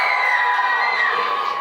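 At a Diwali celebration, an audience cheers and shouts all at once, with children's voices among them. The crowd noise is loud and steady and briefly fills the hall.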